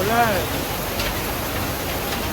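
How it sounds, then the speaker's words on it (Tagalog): Steady rain falls in Quiapo after two weeks of wet weather, a continuous even hiss throughout, with a brief whistling tone at the very start. "So, 2 linggo na tayong inuulan mga boss."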